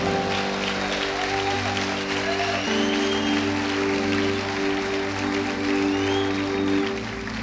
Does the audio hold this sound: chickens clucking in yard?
no